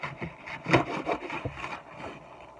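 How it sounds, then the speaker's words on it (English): A knife cuts through the end of an ear of corn still in its husk, making close, fibrous crunching and sawing scrapes in short repeated strokes. "So we're going to cut that off just a little."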